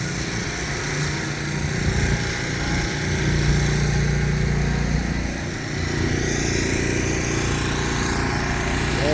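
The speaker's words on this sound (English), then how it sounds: "Now I know that noise you hear, that's the generator." A generator runs at a construction site where concrete equipment is set up to pour a deck, a steady loud engine drone with rumbling low tones that continues throughout.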